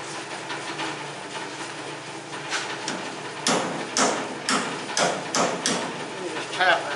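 A hammer taps a 1968 Mustang independent front suspension part into place: a series of sharp metallic knocks at close range, unevenly spaced, with someone talking alongside.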